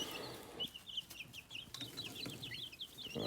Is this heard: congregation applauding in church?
no